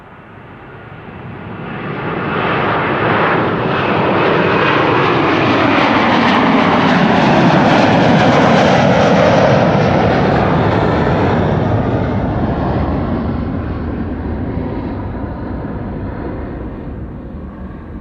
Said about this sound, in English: Delta Airlines flight 91 to Orlando, Florida. A330-300.